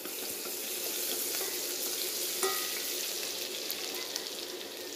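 Garlic sizzles in hot oil in a pot with a steady, dense crackling hiss that runs continuously at moderate level, with no voices.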